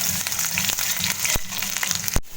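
Chopped onions fry and sizzle steadily in a pan for a Bengali potol bharta, with a few sharp scrapes of stirring breaking through the broad hiss; close and continuous, no voices.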